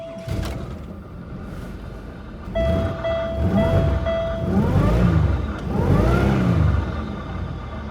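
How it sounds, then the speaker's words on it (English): Air conditioner compressor of a Pontiac Grand Prix running, a steady mechanical whine and rumble with rising and falling surges, plus a brief tonal hum, heard close without talking. "that noise is the air conditioner compressor"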